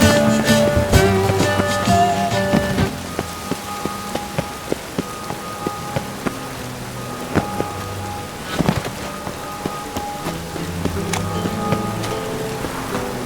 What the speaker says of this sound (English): Rain, I like rain.